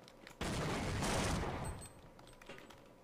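A controlled-demolition explosion in the video game Half-Life: a sudden loud, broad blast that holds for about a second and then rolls off into a decaying rumble.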